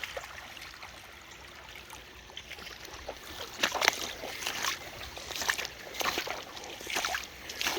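A puppy wading across a shallow dry creek sends up splashes and sloshing water, soft at first and then building into a run of close, irregular splashes and trickles.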